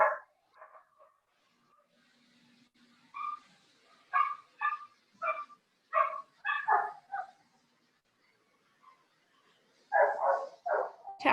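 Dogs at a pet spa and resort barking in bursts, a few yips and yelps spaced out with pauses, then a louder cluster of barks near the end, close and without talk.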